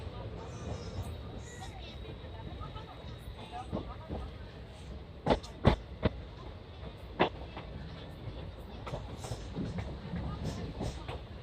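A passenger train pulling out of a station in India, steady rumbling with clanks and rail clicks, moderately close, under ongoing talk and background chatter.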